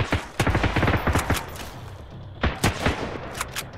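Automatic gunfire from the survival video game Sunken Land, with rapid bursts of shots near and loud, then a short pause and a few more scattered shots.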